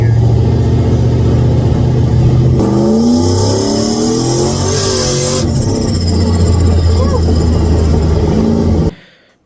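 A turbocharged Ford F150 truck with a roof-mounted turbo being driven, its engine revving loud and close as it accelerates through gear changes, with a turbo whistle rising briefly, then cutting off abruptly at the end.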